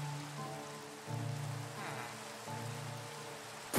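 Rain in the game Minecraft falls as a soft, steady patter, quiet and continuous, with low tonal game sounds layered underneath and no talking.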